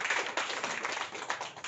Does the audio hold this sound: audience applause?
yes